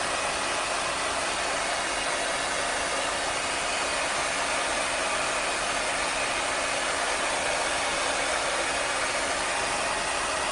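A hair dryer blows at full power while someone does her hair, giving a loud, constant, even rushing whoosh that never changes across the whole stretch, with no voices over it.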